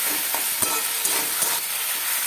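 Fenugreek greens being stirred in a pan after the lid comes off, a steady close sizzle with a few soft scraping strokes of the spoon and no voices.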